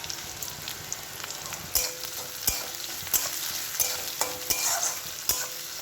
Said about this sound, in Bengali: পেঁয়াজটা নরম হওয়া পর্যন্ত আমি তেলের মধ্যে নাড়তে থাকবো।